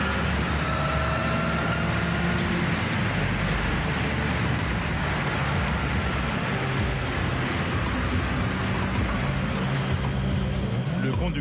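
Gendarmerie police motorcycles accelerate hard along a highway in pursuit of a speeding driver, a continuous loud engine and wind roar that fills the whole stretch, with a voice speaking over it.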